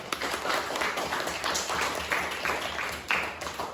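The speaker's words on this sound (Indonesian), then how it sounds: "Tepuk tangan kita semua" A classroom of young students claps together, a steady patter of hands lasting a few seconds, moderately near and fairly even throughout.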